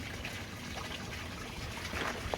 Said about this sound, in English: we're going to give this plant some water so we can test the pH